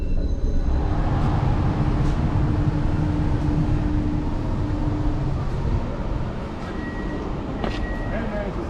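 A steady, loud rumble of the Belgian coast tram (Kusttram) rolling along rails, with a faint squeal and clicks of wheels as it runs on.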